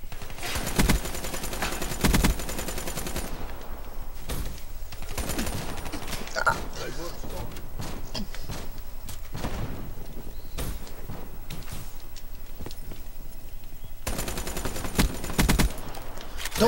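Gunfire in Black Ops 3 gun game multiplayer, repeated bursts of automatic shots and single bangs, some loud and close, others softer, with a player speaking now and then over the game.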